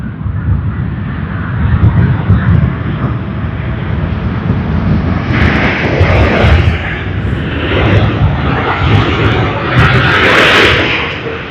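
A Juneyao Air Boeing 787-9 airliner in Oriental Ruby livery at Sydney Airport produces a loud, steady broadband engine roar and rush that swells slightly in places and continues without a break.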